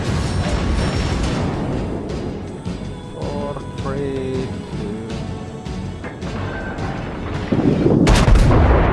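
Battleship guns fire in the naval combat game World of Warships during a low-tier match, with heavy booming salvos and rumbling blasts rolling through continuously while a voice talks over the action.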